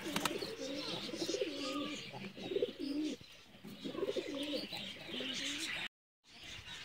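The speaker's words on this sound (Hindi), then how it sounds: "ये कबूतरों की नस्लें हैं।" Pigeons of several breeds on a pigeon farm coo in repeated soft, rolling phrases close by, with faint chirps and background murmur around them.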